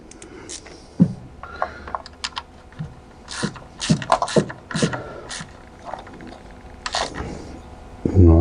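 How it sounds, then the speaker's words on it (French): Ratchet wrench turning a socket on a car engine during a rocker cover gasket and camshaft phaser solenoid replacement, heard as bursts of quick, close clicking with pauses and a few metallic knocks. "Un petit coup de cliquet."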